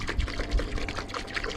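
EZ Car Care shampoo glugs steadily from its bottle into a car wash bucket, a continuous close-up liquid pour with no talking.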